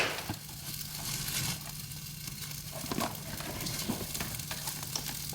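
Baby spinach tossed into an egg white scramble in a hot pan, a steady soft sizzle and frying hiss with light stirring scrapes, close and continuous throughout.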